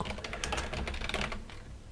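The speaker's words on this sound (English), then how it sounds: "Sorry, I'm just typing this out quickly," Rapid, continuous typing on a computer keyboard while coding in C++, a dense close patter of key clicks lasting about two seconds with no talk.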